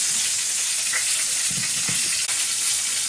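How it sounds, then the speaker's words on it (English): Potatoes for Bonfire Night are tossed in cooking oil and salt, a steady bright hissing, sizzle-like texture with a few soft rustles and clicks, close by and without talk. "So Jay's just coating these potatoes in cooking oil and a bit of salt"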